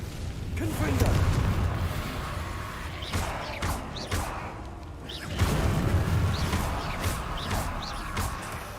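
Confringo blasting spells explode in Hogwarts Legacy gameplay, with several loud booming bursts and crashes over a dense rumbling game soundscape, plus sharp magical zaps and a voice talking now and then.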